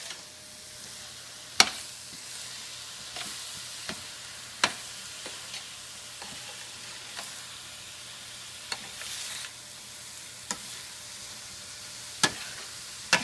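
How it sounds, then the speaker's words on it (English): Beef stuffing with tomato paste is stirred in a pan under a soft, continuous sizzle, punctuated by occasional sharp spoon knocks against the pan at irregular intervals. "Okay, we're going to stir that all in."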